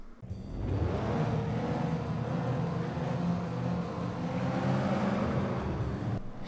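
Cars racing in the Xbox video game FlatOut, a dense continuous engine roar with revving that holds steady throughout at a loud level.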